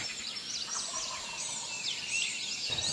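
A wild turkey gobbles in the early morning woods during spring gobbling time. The rattling, high gobbles roll on for several seconds, faint and distant, with no voices.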